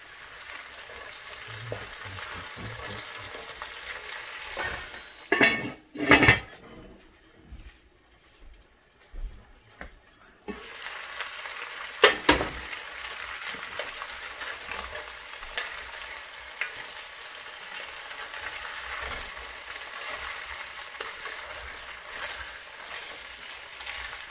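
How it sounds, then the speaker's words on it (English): Potato chunks gently tossed and sautéed in a pan, a continuous frying hiss with occasional louder scrapes and clatters of stirring, close by, with a short quieter stretch midway. "You just you gently gently toss them about and just saute them."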